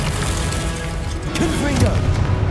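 Confringo and Incendio spell blasts in Hogwarts Legacy, a low rumbling boom and fiery burst swelling toward the end, with a voice speaking over the effects.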